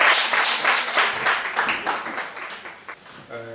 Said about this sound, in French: je veux parler du frère Marc, que je vous demande d'applaudir.